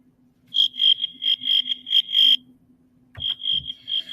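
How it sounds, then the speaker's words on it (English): A cricket chirps in a quick series of bright, pulsing bursts, pauses, then resumes with another rapid run, close and clear over a faint steady hum. "so he played a series of chirps."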